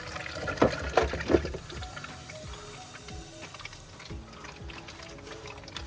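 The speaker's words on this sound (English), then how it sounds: "I'm filling each system." Water filling under-sink filter housings, a gurgling trickle with a few sharp clicks and mechanical knocks early on, then a softer steady flow.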